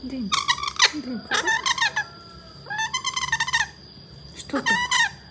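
A pet bird gives repeated bursts of harmonic, warbling calls, four separate phrases close to the microphone, with faint background noise between them and a voice nearby.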